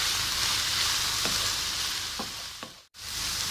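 Chicken and vegetables fry in a pan with a loud, constant sizzle, a few soft stirring knocks near the end, and a brief cutout just before the hiss resumes, with no speech.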